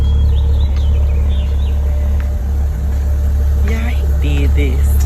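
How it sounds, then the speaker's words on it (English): Maserati Levante SUV engine, a deep steady idling rumble close by, with people talking over it. "Y'all heard that engine?"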